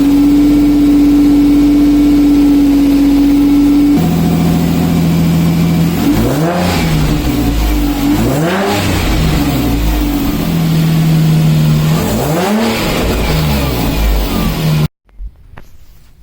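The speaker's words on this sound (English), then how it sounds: "we're going to go ahead and do the first startup. Rev it a little." Nissan 350Z HR V6 with a Z1 Motorsports dual cold air intake starting up, then loud, close revs that rise and fall over a steady idle before cutting off abruptly.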